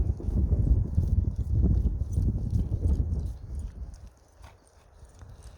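Several horses walk through a training session on a windy day, hooves clip-clopping in a steady, busy rhythm that is loud early on and then fades quieter toward the end.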